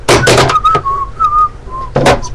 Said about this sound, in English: I'm just doing my nose with a whistle.